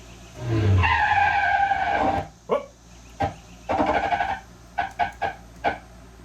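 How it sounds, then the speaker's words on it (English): Car tires squeal loudly in a long skid lasting about two seconds, followed by several short, sharp chirps and squeaks of rubber. "that is when the sound should occur of the squealing tires."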